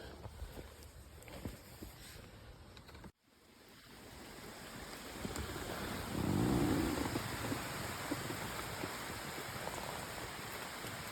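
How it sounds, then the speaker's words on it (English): Steady, dense hiss of heavy rain pours continuously on a woodland shelter, briefly cut by a sudden drop, then returning fuller and louder. "It's raining heavy."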